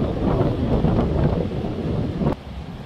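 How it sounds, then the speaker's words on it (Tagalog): Strong seaside wind buffets the microphone with a loud, continuous rumble while crashing waves surge underneath at a beach reserve in New South Wales, Australia, the roar easing slightly near the end. "medyo malakas yung hangin at saka yung alon"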